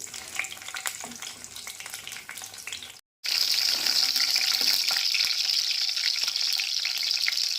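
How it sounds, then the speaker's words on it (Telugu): Bay leaves and slit green chilies fry in hot oil with a continuous crackling sizzle, which cuts out for a moment and comes back as a louder, brighter hiss. "ఒక మూడు పచ్చిమిర్చి తీసుకొని పొడవ కట్ చేసి వేసుకుంటున్నానండి"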